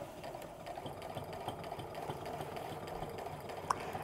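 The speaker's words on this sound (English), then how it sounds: "So as I'm sewing" A sewing machine runs a steady, faint, continuous hum while piecing an apron seam, with a small click near the end.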